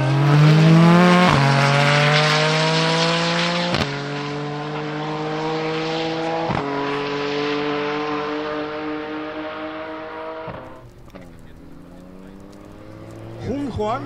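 A 750 hp Audi TT RS Plus with a GTX35 turbo and five-cylinder engine accelerates hard and loud, climbing through several sharp gear changes before easing off and building again at the end.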